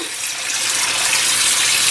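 Tap water runs steadily into a sink, a loud, close hiss of flowing water as a kitchen bowl is rinsed out.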